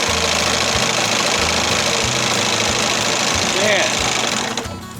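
A 1968 Evinrude Fisherman 6 hp outboard motor runs steadily with a loud, rapid knocking putter, someone talking over it as the engine note briefly changes near the end.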